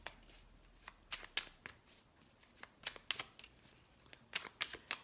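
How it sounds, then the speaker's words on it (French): Playing cards are handled in a quiet room: a loose series of crisp riffles and sharp snaps as cards are shuffled and drawn, arriving in irregular bursts with short pauses between them. "On va sortir une autre carte par-dessus ça."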